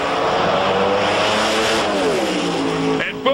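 Front-engine top fuel dragsters racing at a drag strip: a loud, sustained roar of engines under full throttle, holding near and powerful before cutting off abruptly near the end.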